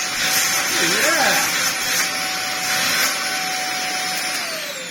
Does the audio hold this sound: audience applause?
no